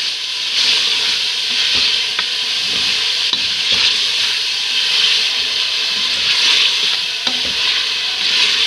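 Steady sizzling of ginger garlic paste frying in a pan, a constant bright hiss with occasional soft stirring clicks and scrapes.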